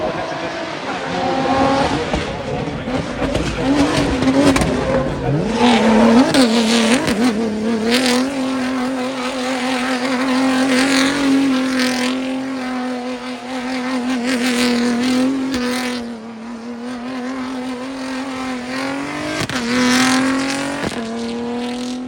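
WRC rally and drift cars race on the rally stage at Goodwood Festival of Speed 2025, engines revving and surging with occasional tire squeal, loud and continuous as a voice talks over them.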